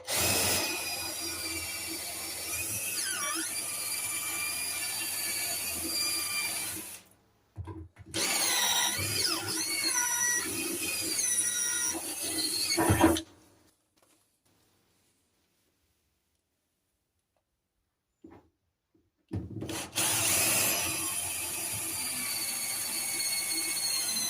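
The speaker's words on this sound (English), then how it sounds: "I'm going to drill out these spot welds holding that cage on" A power drill bores out spot welds in old Simca Plein Ciel car body sheet metal, whining in several long runs with a rising and falling pitch, then a long silent pause before it starts drilling again.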